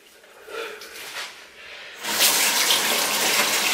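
Tap water runs and splashes as a face cleanser is rinsed off, rising from a light trickle to a loud, steady full-bodied gush in the second half.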